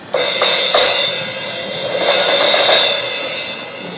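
Sabian 16-inch Raw Bell Crash cymbal struck repeatedly at a NAMM 2014 booth, several bright crashes in a loose rhythm with a shimmering, sustained wash that swells again midway and stays loud and close.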